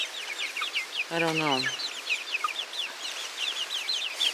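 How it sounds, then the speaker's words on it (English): Backyard chickens cluck and chirp steadily at close range, with one drawn-out lower squawk rising above the flock; a person briefly speaks. "He might be a rooster."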